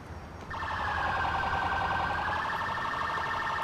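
A police car siren from the video game GTA 4 switches on after half a second and holds a steady, fairly faint electronic wail over a low background rumble.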